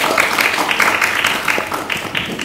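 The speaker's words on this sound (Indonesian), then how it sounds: "Boleh tepuk tangan luar biasa untuk kita semua" Studio audience applauding during a televised anniversary broadcast in Jambi, a steady dense wash of clapping filling the short clip at moderate loudness.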